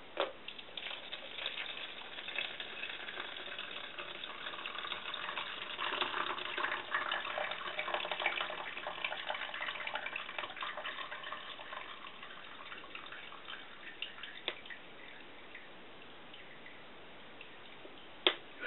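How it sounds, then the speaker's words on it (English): Hot pasta water from a spaghetti pot pours out in a steady splashing, trickling stream indoors in a studio, swelling in the middle and tapering toward the end, with a sharp clank near the finish. "I'm going to drain it good."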